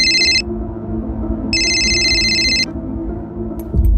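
A telephone in a Hindi crime drama rings in two clear electronic bursts, a short one and then a longer one, over a low steady background hum.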